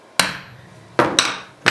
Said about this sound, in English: you'd want to do a center punch with a hammer and a tool like this, which is a center punch